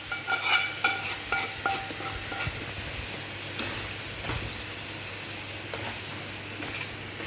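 Boiled dal poured over cooked chicken in a pan and stirred, giving soft wet scraping and faint sizzling, with a few sharper clinks early on, steady and fairly quiet throughout.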